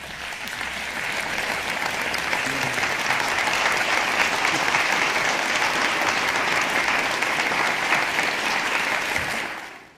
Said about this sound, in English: get ready to give him one great round of applause